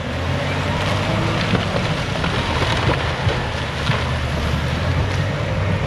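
A Cat D6H bulldozer clearing a building site drives up a built ramp to push over a tree, a loud steady diesel roar and heavy rumble heard from a distance, with no talk.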